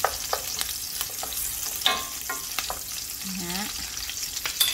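Onions and garlic sauté in a pan, a dense, steady sizzle with soft stirring close by and a brief vocal sound near the end.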